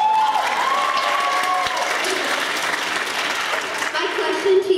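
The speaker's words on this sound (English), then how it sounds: "Round of applause." Audience applause and cheering fill the room after a high school one-act play, a steady, dense wash of clapping that holds loud for the whole stretch.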